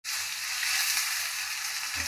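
Onion, green chili and curry leaves sizzle steadily in a hot pan, a continuous close frying hiss with no voices, ending with a faint clatter as tomato goes in.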